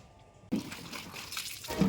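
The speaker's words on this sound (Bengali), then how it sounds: "ছাদের যে ট্যাঙ্কি জলটা আছে সেখানে জল ছাড়ার কল আছে, তো সেইখান থেকেই আমি এটা ধুয়ে নিচ্ছি।" Clothes washed on a rooftop with water from the tap of a rooftop tank: after a quiet start, water suddenly begins flowing and splashing close by, continuing steadily with no voices.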